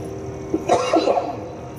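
A short burst of coughing, close and sharp, over a low constant background hum.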